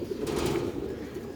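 A male Sialkoti pigeon coos in a low, soft, drawn-out murmur, close by and brief, with faint background noise.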